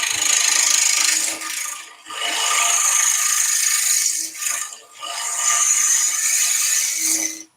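A 6mm (1/4 inch) bowl gouge cleans the surface of a wooden bowl spinning on a lathe, making loud, harsh scraping passes in three long strokes separated by brief pauses.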